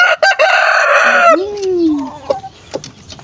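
A large pet rooster crows once, loud and close, the call rising and then sliding down into a drawn-out tail, with a few brief clucks and scuffs after it.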